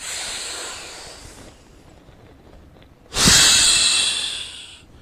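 A person breathing against a belt wrapped around the ribs, with a long, airy exhale trailing off, a pause, then a strong, close hissing breath lasting nearly two seconds.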